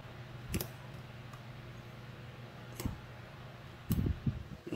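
Metal pick tapping and clicking against pins inside a lock, a few sharp isolated clicks spaced apart over a steady low hum, close and fairly quiet.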